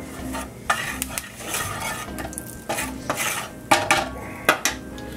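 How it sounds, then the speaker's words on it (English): Chili powder stirred into hot fat in a pan on a home stove, a spoon scraping and clinking against the metal in close, irregular strokes over a soft sizzle. "Stir that into the fat."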